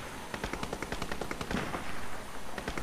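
Automatic gunfire rattles in rapid bursts in the video game Crysis, the shots dense and rhythmic, fairly loud and close, with a heavier boom partway through.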